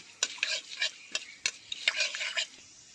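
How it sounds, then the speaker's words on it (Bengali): Whole spices tempering (phoron) sizzle in hot oil in a home kitchen while making vegetable chop filling, a steady close crackle broken by several sharp stirring scrapes and clinks. "এবার আমি এখানে সম্বরাটা দিয়ে দিচ্ছি ফোড়নের জন্য"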